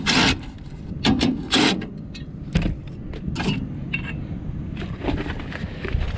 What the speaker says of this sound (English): you just got four simple screws. Remove those, and it'll come right out